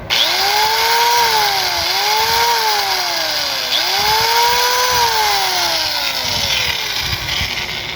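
An angle grinder with a newly replaced bearing and carbon brush runs loud and close, its motor whine rising and falling in pitch through several throttle surges with a steady rough drone underneath.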